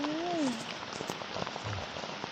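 Rain falling on bare soil outdoors, a steady hissing patter with scattered close drop ticks throughout, joined by a brief tonal whistle near the start.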